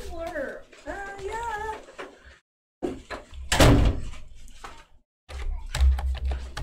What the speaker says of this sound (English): Yeah, let's go close the door.